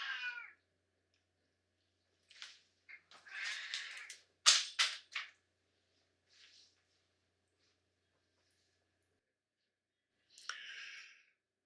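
An indoor house cat lets out a scattered series of meows and short chirps, with quiet gaps between them and a final meow after a long pause; no one speaks.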